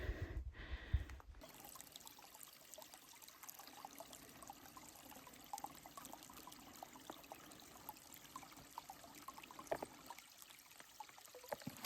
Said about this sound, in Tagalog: Tingnan nyo yung tubig dito, guys, na nanggaling sa gubat.